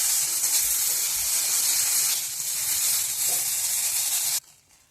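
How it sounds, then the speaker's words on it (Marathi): Green chillies, washed and roasting in a little oil in a pan until lightly blistered, give off a loud, steady hiss and sizzle that runs continuously, then drops away abruptly near the end as the heat is pulled. "यावरती थोडंसं तेल टाकून हलके डाग येईपर्यंत आपल्याला ह्या मिरच्या भाजून घ्यायच्या आहेत।"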